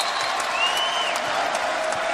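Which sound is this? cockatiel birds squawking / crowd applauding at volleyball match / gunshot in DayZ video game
crowd applauding at volleyball match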